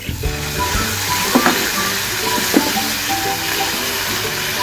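Chicken filling with dry spices sizzles loudly in a frying pan after a splash of water, a continuous steamy hiss with occasional stirring clinks and scrapes.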